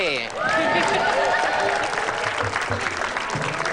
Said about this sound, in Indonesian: Tepuk tangan buat IDP.